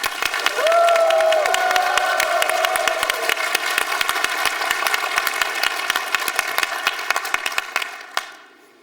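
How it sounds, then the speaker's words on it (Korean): A talk show studio audience breaks into sustained, dense applause with a brief tonal sound early on, tapering off at the end. "여러분 큰 박수로"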